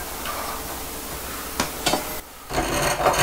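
A wooden spoon blank being cut with a hand saw: a few short rasping strokes of the blade through wood, close and moderately loud, over a steady background hiss.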